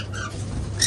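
Wild sparrows chirp and squawk in a bird market, a steady twittering chorus close by with a brighter, louder burst of calls at the end.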